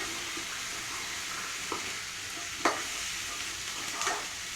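Chickpeas frying in a pan with onions and garlic give a quiet, steady sizzling hiss, broken by a few soft stirring clicks and scrapes, with no voices.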